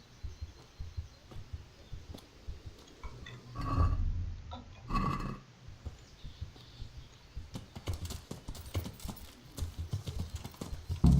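Horse hooves clip-clop in a steady walking rhythm in Kingdom Come: Deliverance, with soft snorts and breathy sounds in between, fairly close.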